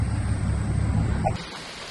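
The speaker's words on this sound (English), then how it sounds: "Rain!" Steady rain with a low thunder rumble outdoors, loud and continuous, then cut off abruptly, leaving a quieter hiss.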